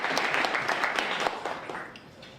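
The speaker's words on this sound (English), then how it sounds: "Let's give them a round of applause." Audience at a Rotary club meeting applauding, a dense wash of many hands clapping at moderate volume that gradually thins out toward the end, with no talking over it.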